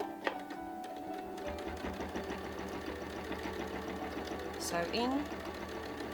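A sewing machine runs steadily while free-motion quilting swirling loops into a painted pink lily quilt, its even mechanical whir continuing under a voice as she talks.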